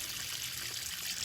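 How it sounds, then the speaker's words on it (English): Water flows abundantly from an outdoor water source near a campsite shower block, a steady hissing rush that is close and continuous with no voices. "An abundant flow of water."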